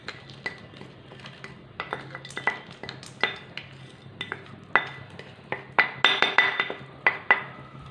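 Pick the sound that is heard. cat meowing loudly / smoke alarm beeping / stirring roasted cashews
stirring roasted cashews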